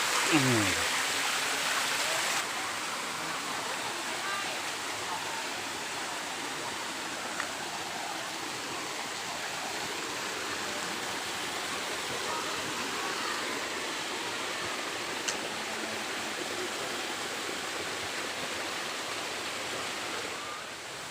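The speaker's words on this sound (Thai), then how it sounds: "นี่เป็นบริเวณชั้นสองของน้ำตก" The second tier of Chanta Then waterfall roars steadily, a continuous broad rush of falling water close by that fills the whole scene without pause.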